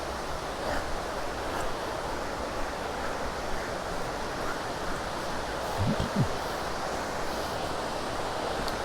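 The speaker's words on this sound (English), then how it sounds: "Here we go, approaching the waterfall now" A waterfall in Mt Field National Park pours in a steady, broad rushing roar that holds evenly throughout, heard fairly close with no voices over it.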